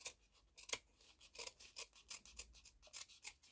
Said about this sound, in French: on vient couper à ras ici tout ce qu'on n'a pas rentré